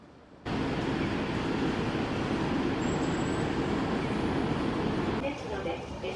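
A sudden loud rumble of a passing train in Osaka, Japan, near Midosuji, starts abruptly and continues steadily, fading somewhat near the end.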